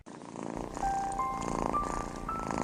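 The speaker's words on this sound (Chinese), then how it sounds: "小猫咪是怎么打呼噜的呀？" A kitten purrs in a steady, close, rhythmic rumble that swells after a brief quiet start and continues evenly to the end.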